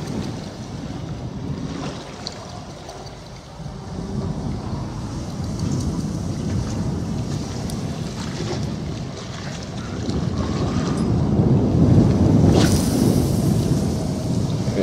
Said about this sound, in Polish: Czy ten wiatr jest na tyle znośny, a te moje środki, które zastosowałem do tego, aby go wyciszyć, na tyle wystarczające,